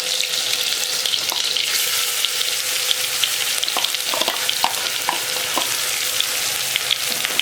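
Fresh ginger, garlic and chili paste sizzles in hot oil with ajwain for chole masala, a steady close crackle with scattered sharp pops and faint stirring, no talking.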